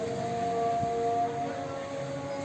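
A distant, wavering Islamic call to prayer from a mosque drifts over evening outdoor ambience in Busumbala, faint and sustained, with a long held melodic tone.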